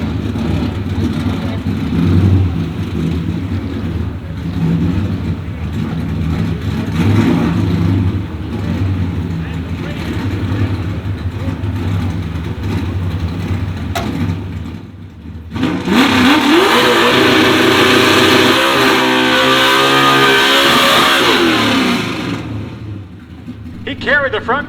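A factory stock Ford 4.6L 280ci two-valve V8 drag car with a four-speed roars down the quarter mile, engine droning under an announcer's commentary before a loud, close full-throttle pass with rising revs and gear shifts.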